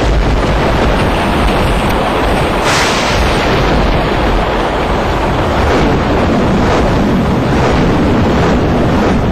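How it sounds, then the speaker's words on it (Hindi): Heavy monsoon rain pours down across Mumbai, a loud, steady broadband wash with wind buffeting the microphone, continuous and unbroken throughout with no voices. "मुंबई में जोरदार बारिश हो रही है।"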